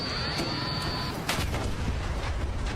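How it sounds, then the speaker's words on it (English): In the video game STALKER 2, a landmine and a thrown bomb go off as a short, moderately loud boom with a sharp onset and a rumbling tail, following a brief ringing tone. "The explosion was pretty epic."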